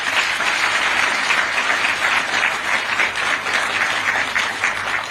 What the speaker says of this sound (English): May we clap for the late President Kaunda.